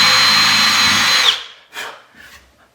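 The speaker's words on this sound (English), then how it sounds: "I'm going to just show you one here with a regular drill bit." A power drill with a regular bit pre-drills screw holes in wood for a raised planter bed, whining loudly and steadily for over a second before cutting off and spinning down, followed by faint handling sounds.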